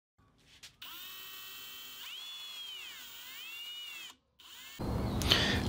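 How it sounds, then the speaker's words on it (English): A power drill whines steadily, its pitch rising and falling as it bites into wood, drilling 3/8-inch holes, stops briefly, then restarts with a rougher, noisier drilling sound. "Now I got two marks to drill my holes."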